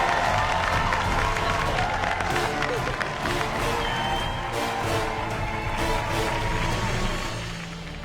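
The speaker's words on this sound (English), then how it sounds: "they have returned to this kitchen to cheer you on" Crowd cheering and clapping in the MasterChef kitchen at the season finale, as former competitors return to cheer the finalists on, a dense continuous roar of cheers and applause that fades slightly toward the end.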